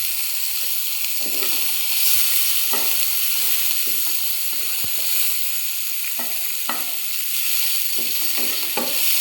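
Carrots frying in hot oil for a street-style egg roll filling, a loud continuous hiss and crackle of oil with occasional soft stirring bumps, close and unbroken, no speech.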